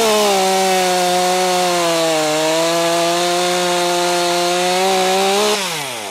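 Stihl MS201T top-handle chainsaw with a Light 04 bar and PS3 Pro chain cutting through softwood, a loud, steady high-revving whine held for several seconds that drops in pitch as the cut finishes near the end, with no talking.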